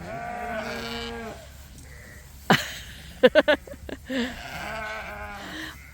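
Several sheep on a farm bleat in repeated calls, fairly close, with a few sharp clicks in the middle and a person speaking briefly between the cries.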